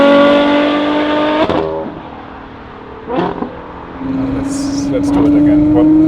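A full-carbon one-off Novitec Ferrari 812 N-Largo S with its V12 engine sounds loud and close, holding a steady high drone, then rising again in pitch as it revs, with people talking over parts of it.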